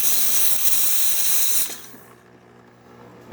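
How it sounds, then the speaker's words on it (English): A DeLonghi espresso machine's steam wand frothing milk gives a loud, close, continuous hiss that stops abruptly partway through, leaving a low hum. "Nice foam, nice steam coming out of there."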